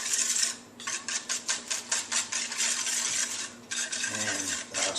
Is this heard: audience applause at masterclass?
no